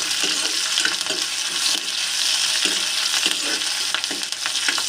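Curry leaves and green chilies stir-fry in hot oil with browned onions, a dense bright sizzle and crackle with scraping stirs rising and falling at close range, continuous and without speech.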